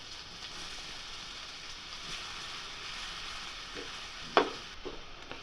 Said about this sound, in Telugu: అదే పాన్లో మనం తరిగి పెట్టుకున్న క్యారెట్ని వేసి దోరగా వేయించుకోవాలి.